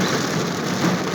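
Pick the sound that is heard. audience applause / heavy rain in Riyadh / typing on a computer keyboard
heavy rain in Riyadh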